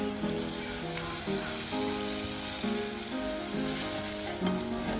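Mango pieces fry in sesame oil for a traditional pickle, giving a steady, dense sizzle with occasional stirring scrapes throughout, close and continuous with no talking.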